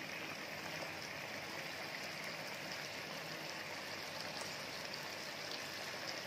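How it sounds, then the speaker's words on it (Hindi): Chicken pieces go into a hot pan of tempering for Chicken 65 and give a loud, steady sizzle and crackle that fills the whole stretch without a break. "टेम्परिंग भी तैयार है, हम इसमें अपने चिकन के पीसेस डालेंगे।"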